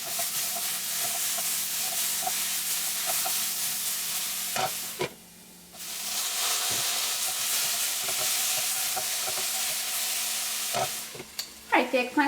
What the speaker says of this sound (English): Now we're going to cover it and let it cook until the eggplant is tender.